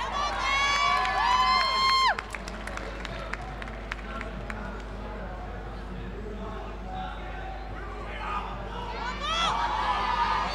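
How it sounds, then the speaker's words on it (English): Crowd at a national weightlifting championship cheers and claps after a 200 kg lift, a steady roar of applause with excited shouts and a commentator's voice over it. "Give a round of applause."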